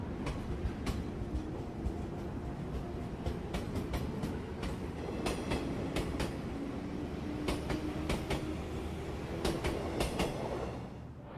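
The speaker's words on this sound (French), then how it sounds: "le train à destination d'Utsunomiya va bientôt partir" Commuter train departing toward Utsunomiya, a steady rumble of wheels on rails with repeated clicks from the track joints, sustained throughout and close by.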